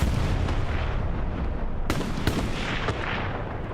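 Artillery shells exploding in a multiplayer war game on the Kharkov map, with heavy booms and sharp cracks over a dense rumbling battle din, some near and some distant.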